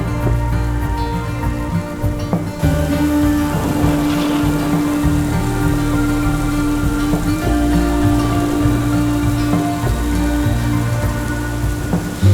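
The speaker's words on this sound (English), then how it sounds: "listening to the rain hammer down on the roof" Steady, heavy rain drums on a car roof overhead, a dense constant patter with low rumbling underneath and no voices.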